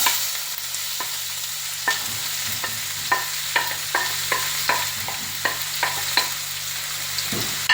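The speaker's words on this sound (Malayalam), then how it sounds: "നമ്മുടെ എണ്ണ ചൂടായിട്ടുണ്ട് നമുക്ക് സവാള ഇട്ട് കൊടുക്കാം" Sliced onions frying in hot oil in a pan, with repeated sharp spoon scrapes and taps at an irregular pace over a continuous sizzle and a low steady hum.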